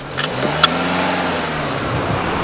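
A car engine hums steadily while driving on a road trip in South Africa, with a brief rev near the start and a continuous close drone throughout, no voices.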